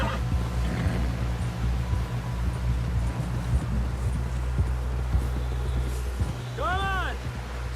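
Horse hoofbeats in Red Dead Redemption 2 clopping in a steady gallop rhythm under wind and talk, with a brief higher-pitched cry near the end.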